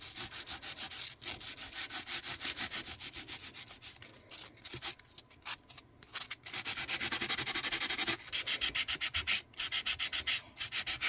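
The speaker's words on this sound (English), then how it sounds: "buff and sand until you start to see the white come through" Close, rhythmic hand sanding of embossed paper with sandpaper, repeated scratchy strokes with brief pauses, loud and without talking.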